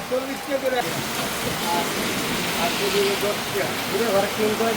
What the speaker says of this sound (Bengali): রাস্তার মধ্যে আমাদের বৃষ্টি ধরছে